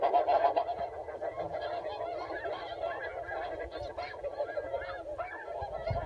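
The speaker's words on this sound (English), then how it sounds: "You hear a lot of birds in the area right now." Geese honking near a goose hunt, a flock calling continuously with overlapping nasal honks at moderate distance, fairly quiet and steady with no voices.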